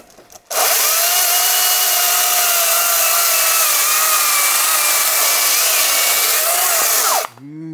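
A Makita 40V rear-handle cordless chainsaw (MUC019G) cuts into wood with its spike engaged, a loud, steady high-pitched motor whine held for about seven seconds between short quiet gaps at start and end.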